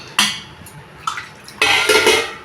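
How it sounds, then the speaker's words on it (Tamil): Water splashes and pours into a metal pot for an egg vada curry in short bursts, with a clink of the pot between pours, close and fairly loud. "இப்போ தேவையான தண்ணி ஊற்றிக்கணும்."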